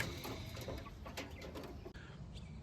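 Chickens cluck softly on a farm during morning feeding, a low murmur of fowl sounds with a few sharper calls over steady background noise, fairly distant and faint.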